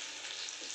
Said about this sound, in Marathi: आपली शेवगा फ्राय मसाला किती छान फ्राय होते, डीप फ्राय।